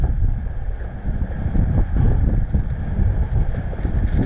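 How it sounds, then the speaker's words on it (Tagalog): Strong sea-side wind roars steadily into the microphone, a dense low rumble with no voices. "Problema yung hangin malakas."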